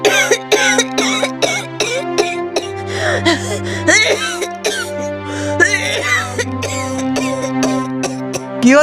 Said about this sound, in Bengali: কি হলো মা, কাশিটা আবার বেড়েছে?